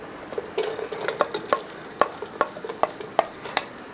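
Ginger and green chilies are stirred and frying in masala in a pan for a Kerala coconut rice dish, a soft sizzle broken by sharp, repeated scrapes and clinks of the spoon against the pan, close and clear.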